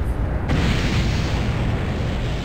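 A loud explosion in the game 7 Days to Die (Alpha 16) roars as a broad, noisy rumble, with a sharp burst at the start that sustains as a heavy, crackling blast.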